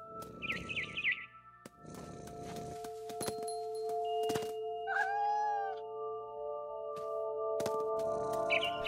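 A cat in the video game What Remains of Edith Finch meows a few times, short wavering calls set against humming musical tones, soft thumps and a brief bird chirp.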